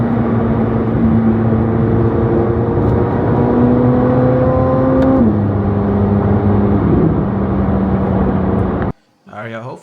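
A Corvette Z06 engine hums steadily while driving on the road home, with tonal whine shifting in pitch as it accelerates, loud and continuous until it cuts off abruptly near the end.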